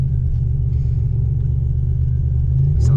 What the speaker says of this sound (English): I'm gonna rev this up and you guys can see RPMs rise.